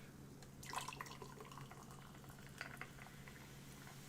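Soft fizzing and crackling of bubbles in a freshly topped-up drink, faint and close, steady throughout over a low background hum, with no talking.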